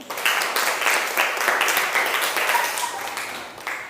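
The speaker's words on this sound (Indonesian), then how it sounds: "Ya, kasih aplaus untuk Meme" Audience applause during an Indonesian professional training session, dense clapping from many hands filling the room at steady loudness, with a brief fresh burst near the end and no voices standing out.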